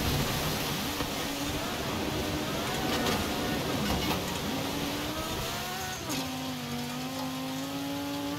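A tuned race car engine in Forza Horizon 5 revs and climbs through gear changes on a track, with loud continuous whine and shifting pitch throughout.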